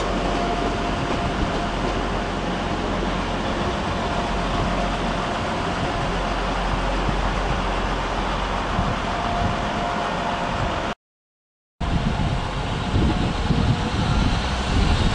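A Transport for Wales train bound for Manchester Airport pulls out of Manchester Piccadilly station, a loud, steady, broad rumble of engines and wheels that fills the platform with little change.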